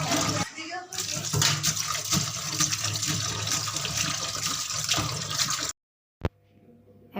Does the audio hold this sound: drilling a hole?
no